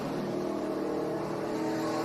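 SRX race cars roar past at Five Flags Speedway in Pensacola, a steady, loud blend of engines accelerating together down the track with no voices heard.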